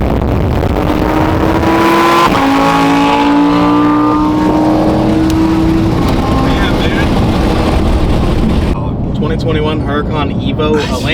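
A twin-turbo 2024 Mustang races a Lamborghini Huracan Evo, with loud engine roar and rising, shifting revs dominating, while people talk excitedly over the racing noise.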